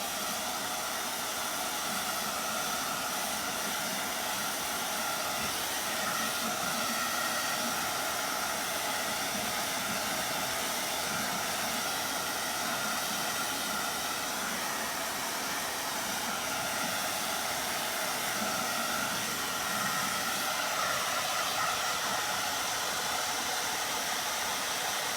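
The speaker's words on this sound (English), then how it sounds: "Let me grab my blow dryer." A handheld blow dryer blows on freshly painted eagle yard art, a loud, continuous airy whoosh that holds steady the whole time, alone and without speech.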